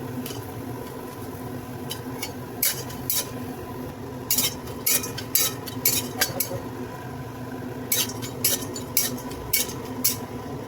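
Cinnamon sticks dry-roast in a pan for a Marathwada-style black spice mix, stirred with a utensil that makes scattered, sharp metallic clinks and scrapes over a steady low background hum.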